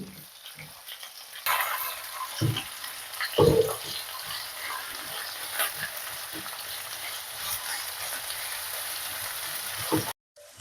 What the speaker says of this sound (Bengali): পেঁয়াজগুলো হালকা বাদামি কালারে ভাজা হয়ে আছে